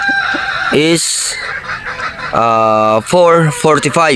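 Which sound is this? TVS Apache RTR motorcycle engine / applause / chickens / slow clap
chickens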